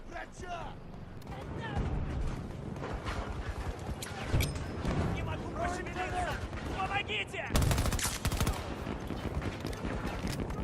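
Gunfire from the Battlefield 2042 video game: rapid, fairly muted shots and bursts mixed with game effects, running under steady talking throughout.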